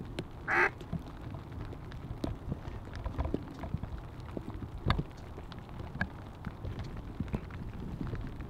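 Duck call blown during a duck and goose hunt: one short, raspy quack near the start, then faint scattered clicks and rustles of the hunting spot, with no voices.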